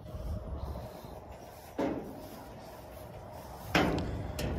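Side door of a livestock trailer opened on a farm while loading a cow, two distinct clunks of metal about two seconds apart over steady outdoor wind noise.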